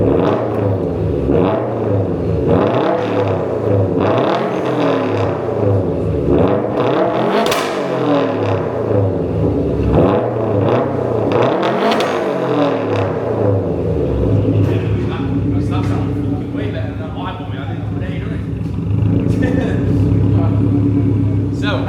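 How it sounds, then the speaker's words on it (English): A Subaru WRX STI with an upgraded exhaust revs repeatedly up and down, loud and close, with a rough, burbling rumble between sweeps and a person talking over it. "just revving it, that's pretty rowdy"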